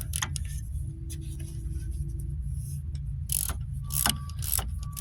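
A ratchet socket wrench working a rear hub bolt loose on a 2006 Dodge Grand Caravan, bursts of sharp metallic clicking and rattling over a low rumbling hum, several quick clusters near the end.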